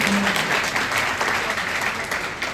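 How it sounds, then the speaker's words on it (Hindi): Audience at a seminar held in Bundi, Rajasthan, claps in a loud, dense burst of applause that keeps a steady level for a few seconds. "एक बार जोरदार तालियां बजाएं।"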